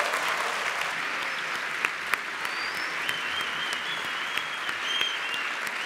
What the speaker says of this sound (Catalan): Un aplaudiment pel Club Bàsquet Vic i per aquest equip que serà promesa.